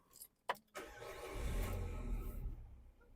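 A 2006 Peugeot 307 with a 2-liter petrol engine cranks with a couple of short clicks, then catches and settles into a low, steady idle.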